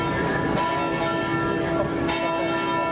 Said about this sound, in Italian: quando i rintocchi delle campane battono il mezzogiorno